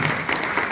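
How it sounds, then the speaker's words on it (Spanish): Applause from an audience at a regional congress for a professor, a dense burst of many hands clapping, close and loud, very brief. "yo quiero que le demos un aplauso a la profesora María Gloria por este hecho que es histórico"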